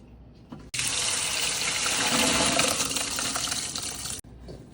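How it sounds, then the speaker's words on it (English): Running tap water gushes steadily into a sink as pre-cooked hominy is rinsed, a loud broadband rush lasting several seconds before cutting off abruptly. "So we're gonna rinse it out. Rinse your hominy really well."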